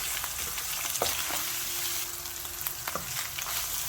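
Minced meat stuffing for qeema kachori sizzles in a hot pan while being stirred and mixed, a steady close frying hiss with a few soft scraping strokes, no talking.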